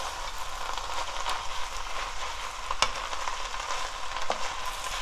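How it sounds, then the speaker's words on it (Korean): Castor bean leaf namul stir-frying in sesame oil in a pan, giving a soft, steady sizzle with occasional clinks and scrapes of a utensil, moderately close and fairly quiet. "나물은 다 볶아보자."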